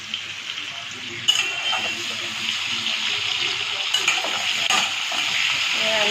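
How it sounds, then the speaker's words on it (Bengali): Steady sizzling of potatoes frying in a pan with turmeric and salt, with a few sharp clinks of utensils against it. "একটু হলুদ লবণ দিয়ে আলুটা ভালোভাবে ভেজে নিতে হয়"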